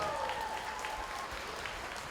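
Audience applause at a youth show where kids present their hard work, a steady wash of clapping holding at an even level throughout, with a faint tonal whine running through the first half.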